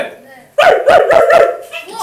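A person imitates a dog barking with voice alone, giving about four short, loud rhythmic bark-like yelps in quick succession during a Korean sermon.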